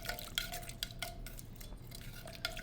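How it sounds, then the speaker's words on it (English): Spoon stirring lemon juice and honey in a container, with several light clinks and taps against the sides over a soft, steady scraping swirl, close and fairly quiet. "You just stir it up, just stir it up pretty good, making sure everything is mixed up."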